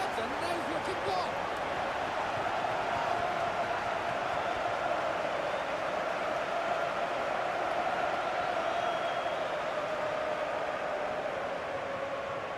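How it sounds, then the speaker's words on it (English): A stadium crowd in the football video game EA FC 26 roars steadily and loudly after a goal, a dense, continuous wash of cheering throughout. "Just listen to the crowd. They're going wild."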